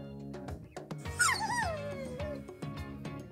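A pet dog whimpers and yips indoors with rising, wavering whines and short sharp cries, close and fairly quiet, no talk over it.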